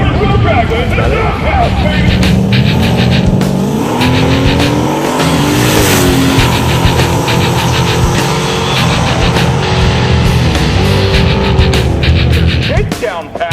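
A drag race car with individual throttle bodies, a snorkel intake and a carbon fiber splitter and wing roars loudly through a shakedown pass at the strip, engine note rising and shifting, with an announcer talking over it throughout.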